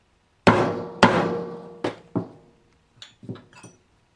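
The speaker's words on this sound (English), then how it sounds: "I'm going to take my mallet. It only has rocking in the middle, so I'm only going to strike the middle." A mallet strikes the middle of the neck of a 12-string Stratocaster during a relic build, giving two loud, close whacks followed by a few lighter taps, each one ringing briefly.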